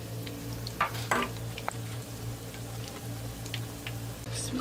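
Dahi bara fritters frying in used oil, a steady low bubbling sizzle with a few brief clinks and stirring clatters of a utensil against the pan, no voices.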